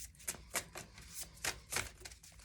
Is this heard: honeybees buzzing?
no